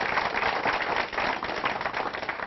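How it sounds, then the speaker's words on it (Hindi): Farmers at a cotton-farming forum clap vigorously to welcome experts, a brief burst of dense, fairly quiet applause. "एक बार जोरदार तालियां बजाकर स्वागत करें हमारे विशेषज्ञों का"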